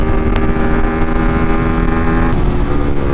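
A carbureted motorcycle engine runs loud and close, holding a steady throttled drone with a slight shift in pitch partway through, its fuel mixture running slightly too rich.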